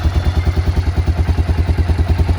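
A 2001 Honda NX 650 Dominator single-cylinder engine idling with its tick-over raised, a loud, close, steady rhythmic thumping pulse with mechanical clatter, no talk.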